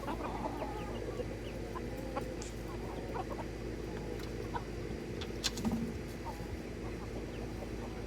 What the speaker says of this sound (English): Blooming Star's over here seeing about these other chickens